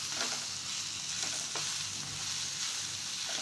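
Eggplant curry with dry coconut being stirred in a pan, giving a steady close sizzle with a few soft scraping strokes and no talking.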